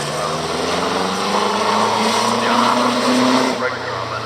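A classic Bugatti racing car with wire wheels climbs the Prescott Hill Climb in 2019, its engine loud and close in a sustained, rising drone that eases off near the end, with a voice talking over it.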